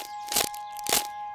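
Crunchy crackers snapped apart by hand, two sharp, close crunches about half a second apart against a steady background tone, with no talking.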